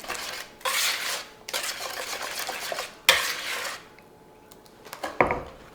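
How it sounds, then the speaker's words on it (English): Wet ingredients with vanilla extract whisked in a bowl, several quick bursts of rapid metallic strokes separated by short pauses, close and clear with no talking. "So I'm gonna whisk this together."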